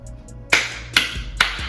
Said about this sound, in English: Big round of applause to Brad Stevens, man.